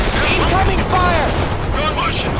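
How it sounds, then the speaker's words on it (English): Incoming gunfire in World in Conflict rattles as a dense, continuous crackle of shots and bursts, with a radio voice speaking over the battle noise throughout. "incoming fire."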